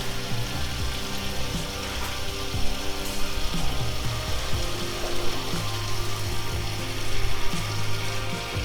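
Fresh water rushes steadily into a bucket of olives being processed at home, a continuous wash of flow with a low mechanical hum beneath it and no voices.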